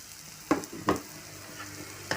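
Spiny gourd (kartoli) stir-fries over a low gas flame with onion, coriander powder, turmeric, asafoetida and masala, soft sizzling broken by three or four sharp spatula scrapes and stirs against the pan, close up with no voices.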